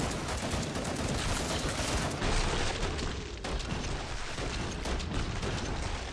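Rifle gunfire in the video game Killing Floor 2, a dense, continuous loud barrage of shots and booms filling the whole stretch, with no talk.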